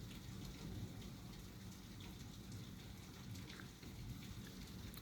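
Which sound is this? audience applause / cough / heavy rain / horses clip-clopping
heavy rain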